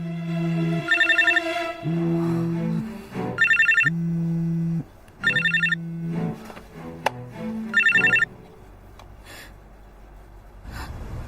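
A telephone rings in four evenly spaced bursts of trilling bells over a low, pulsing background, with faint breathing between rings.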